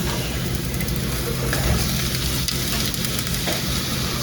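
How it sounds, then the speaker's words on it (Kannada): Onions and vegetables fry in hot oil in a pan with a loud, steady, close sizzle that crackles continuously throughout, plus light stirring scrapes and no talking. "ಆಯಿಲ್ ಹಾಕಿಬಿಟ್ಟು ಅದಕ್ಕೆ ಇವಾಗ ಆನಿಯನ್ ಎಲ್ಲನೂ ಒಂದೇ ಸರಿ ಹಾಕೋದು"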